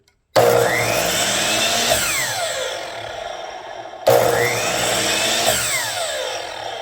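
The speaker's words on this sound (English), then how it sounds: "I'm gonna just turn on the motor" A Metabo HPT 12-inch dual bevel compound miter saw (C12FDHB) motor whines up to speed twice, each start a sharp loud burst that holds then winds down slowly with its pitch falling under the electric brake.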